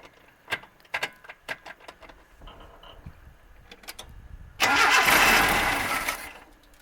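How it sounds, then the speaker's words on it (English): A 1981 Datsun 210 with electronic ignition, idle for nine years, is cranked after a series of sharp clicks and clunks, then bursts into a loud, roaring start that settles into a steady run, heard close with no talk. "This should be an electronic ignition, so it should technically just fire right up."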